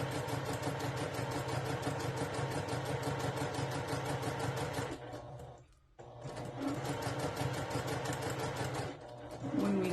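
A sewing machine top stitching a fly front zipper runs in a steady, close mechanical whir for about five seconds, stops briefly, then resumes its rapid needle rhythm to the end.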